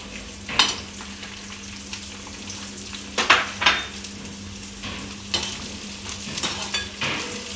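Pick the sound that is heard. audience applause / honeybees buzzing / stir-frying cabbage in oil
stir-frying cabbage in oil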